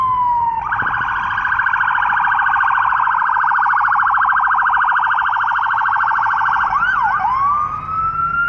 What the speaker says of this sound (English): No, that's ambulance.